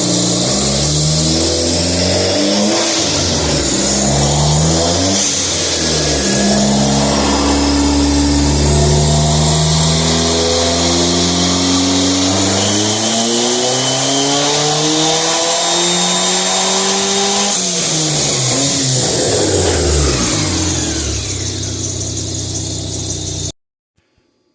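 Boosted Dodge Neon SRT-4 engine on the dyno, revving loud and close through rising pulls with harmonics sweeping up and down, a high whine over the top, then cutting off abruptly at the end.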